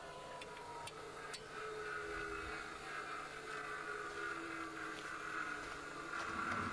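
A gas-powered engine runs steadily throughout, a continuous mechanical hum with a few sharp clicks and knocks near the start, fairly loud and with no talk over it.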